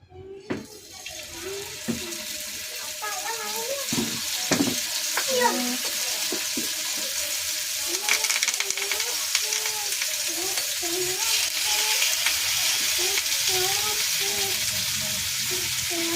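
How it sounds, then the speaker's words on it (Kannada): Fish frying on a home stove gives a steady, dense sizzle with occasional crackles and clinks, continuing at an even level throughout. "ಈಗ ಫಿಶ್ ಫ್ರೈ ಮಾಡತ್ತೀನಿ ಒಲೆ ಮೇಲೆ."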